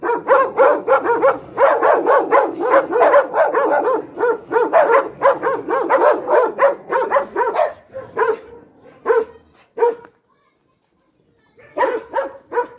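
A black dog barks repeatedly and loudly on a hiking trail near Tepoztlan, Mexico, in rapid bursts with short yips, pausing briefly and then barking again.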